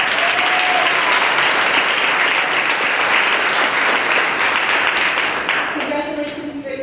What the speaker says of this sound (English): I'd like to offer her a round of applause anyway